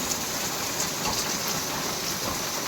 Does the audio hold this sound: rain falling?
yes